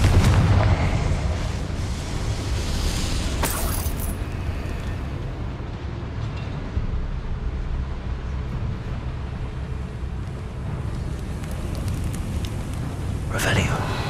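Confringo blasting curse in Hogwarts Legacy, a heavy rumbling barrage with sharp explosive bursts near the start and again near the end, over constant low booming.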